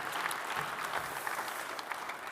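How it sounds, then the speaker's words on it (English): An audience at a talk on the OMERS vision for a sustainable future breaks into steady applause, a dense, even patter of many hands clapping at moderate distance throughout, with no voices rising above it. "You can clap for that too."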